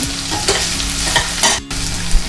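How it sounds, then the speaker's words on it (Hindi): Onions frying in ghee for Punjabi-style shahi paneer, a loud close sizzle with scraping stir strokes and one brief break in the hiss, no talking. "हमारी जो अनियन है वो लाइट ब्राउन हो चुकी है, हल्की हल्की।"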